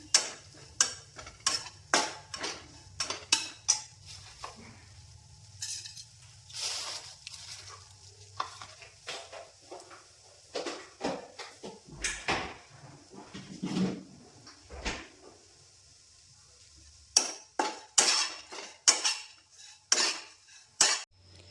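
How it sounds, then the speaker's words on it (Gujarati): Repeated scraping and clinking of a spoon stirring dry coconut roasting in a pan, in uneven bursts with brief pauses, faint sizzle beneath. "આ ટોપરાને પણ આપણે શેકી નાખવાનું છે કડકડી"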